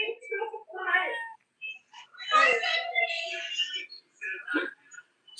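Close, repeated meows from a kitten come in a few separate bursts, some drawn out and rising, with brief quiet gaps between them.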